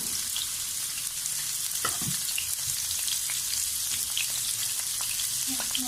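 Four large chopped, washed onions frying in a cup of hot oil for chicken biryani, a steady soft sizzle with a few faint clinks of a spoon, no talking.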